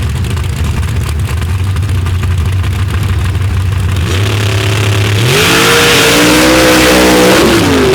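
Open and Mod class drag racing cars launching at Paducah, a loud, close engine roar that builds and rises sharply in pitch as the cars accelerate hard off the line.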